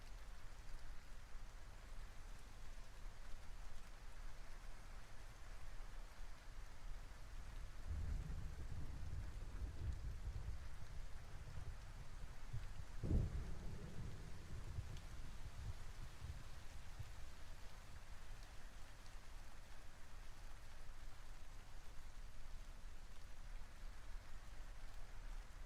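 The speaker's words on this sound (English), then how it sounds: "there you heard a thunderstorm" Steady rain falls throughout a thunderstorm, faint and even, with a low rumble of thunder building midway and a sharper crack just after, no voices.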